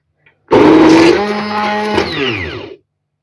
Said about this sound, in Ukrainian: Далі, друзі, гарненько пробиваю блендером.